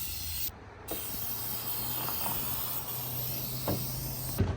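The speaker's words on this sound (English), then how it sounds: "This one sprays better already." An antique wooden hutch is spray painted with a steady, continuous hiss from the sprayer, close and even, briefly cutting out once before resuming, with a few faint knocks and no speech.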